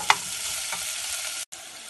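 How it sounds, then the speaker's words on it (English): Ginger and garlic frying in a pan: a continuous close sizzle with a sharp tap at the start and faint stirring scrapes, broken by a brief moment of silence near the end. "So my ginger and garlic are cooking away"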